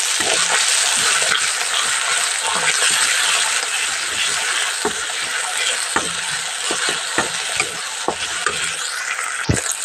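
Chili and tomato fry in a pan, giving a steady loud sizzle with scattered clicks and scrapes from stirring, close up and with no talking.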